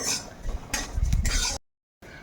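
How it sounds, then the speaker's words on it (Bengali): A spoon stirs black cumin seeds in hot oil in a cooking pan, giving short scraping and clinking strokes up close, then the sound cuts to silence before a faint return. "এখন এটাকে একটু হালকা করে তেলের মধ্যে নাড়িয়ে নেব"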